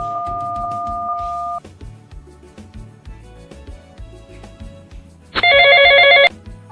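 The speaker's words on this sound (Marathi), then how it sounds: "मिशेल ते गोंय फोन करून खबर घेता" A telephone rings in a Konkani comedy scene, sounding first as a steady electronic ring for about a second and a half, then again louder near the end over background music.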